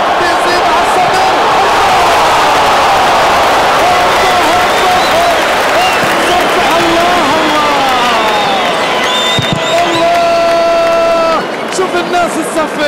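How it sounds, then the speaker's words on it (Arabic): A stadium crowd at a Real Madrid versus PSG football match applauds in a loud, continuous roar with whistles and shouts rising through it, and a voice talks over the noise. "الناس تصفق، شوف هنا الصغير والكبير والأجواء الرائعة"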